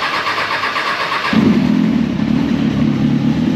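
A Kawasaki Ninja motorcycle fitted with an Arrow exhaust cranks and fires up after sitting unused for months, then settles into a loud, steady, rumbling idle close to the microphone.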